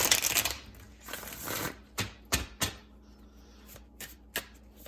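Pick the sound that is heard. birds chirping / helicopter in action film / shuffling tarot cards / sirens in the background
shuffling tarot cards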